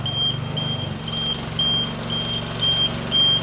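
Short electronic warning beeps from a Nifty 34-foot towable boom lift sound repeatedly at a steady interval, about five or six in a row, over the low, constant hum of the lift's running motor.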